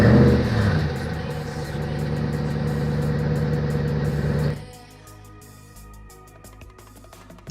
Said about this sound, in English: Show you how the remote start works. Just lock the vehicle and hit the button twice,